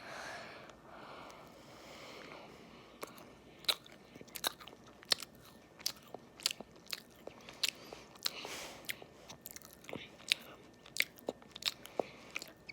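A chocolate macaron is bitten and chewed close up in a quiet room, with a string of crisp, crunchy bites followed by soft, rhythmic chewing and occasional sniffs.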